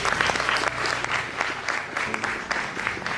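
Audience applause at an Umuganura 2025 celebration in Oslo, a dense, continuous burst of many hands clapping close and loud, filling the whole stretch with no talk.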